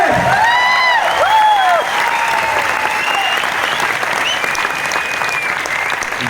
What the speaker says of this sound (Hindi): एक जगह ताली आ जाए माइलेज के लिए